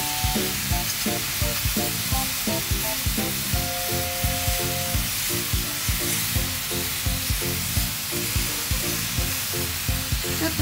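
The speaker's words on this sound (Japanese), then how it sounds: "しっかり焼き付けていきます。" Chicken sears in a frying pan for a chicken and mushroom tomato stew, giving a loud, constant sizzle and crackle with spitting bursts, plus occasional taps and scraping as the pieces are moved, with no talk.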